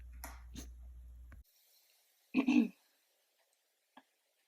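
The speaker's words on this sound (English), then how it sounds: "Another clip where I start by clearing my throat" One short, rough throat clearing, close and fairly loud, follows a brief muffled noise and is then followed by near silence and a faint click.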